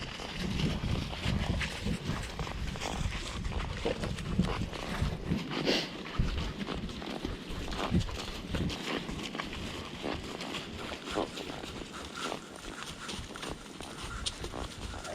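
Horse hooves clip-clop steadily as a mare walks under saddle on a trail ride at a walking horse farm, a continuous close rhythm with outdoor ambience and brief rustles.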